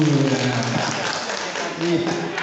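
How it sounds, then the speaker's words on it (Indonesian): An audience claps steadily for Pak Teguh at a teachers' workshop session, a dense, even patter under a speaker's voice that continues through the whole short stretch. "Tapi berikan aplaus untuk Pak Teguh."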